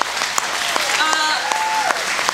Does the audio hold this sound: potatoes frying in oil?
no